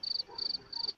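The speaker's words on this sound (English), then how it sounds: "Crickets." Crickets chirp in quick pulsed bursts, three trains of rapid high chirps separated by short pauses, moderately loud with no talking over them.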